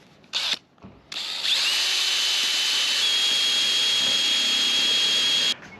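A power drill grinds down a bit to clear space for a screw while a roof rack is fitted to a Ford Transit van, giving two short bursts followed by a loud, steady high whine that runs for about four seconds, with no talking.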